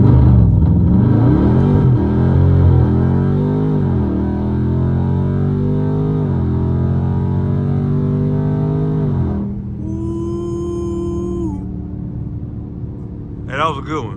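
A Dodge Hellcat accelerating hard at full throttle, the engine climbing in pitch through rising gear sweeps with a loud, close roar before easing off, while people talk inside the car.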